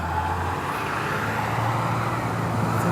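A school bus rolling past on a road, its steady engine and tire roar holding loud and close for the whole stretch, with no talk.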